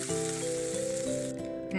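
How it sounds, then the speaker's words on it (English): Hot oil sizzles and crackles steadily as mustard seeds and spices fry for a South Indian coconut chutney, a continuous hiss with a soft tonal hum running underneath. "Let them sizzle and turn golden."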